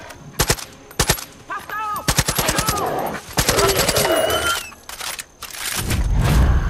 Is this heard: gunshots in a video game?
yes